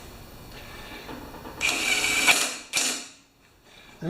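Bolts being worked loose at the back of a 1970 Craftsman Eager lawn mower with a Tecumseh engine: a few close ratcheting and creaking mechanical bursts with short pauses, no talking.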